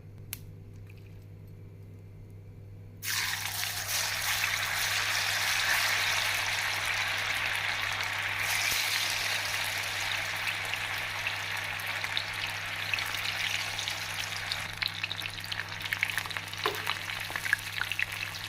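Loud, steady sizzling of meal maker soya chunks dropped into hot oil in a pan on high flame, starting abruptly after a quiet moment and crackling continuously, with a low hum underneath.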